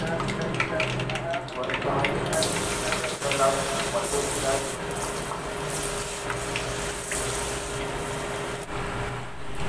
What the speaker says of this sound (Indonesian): Kemudian kita goreng lagi ya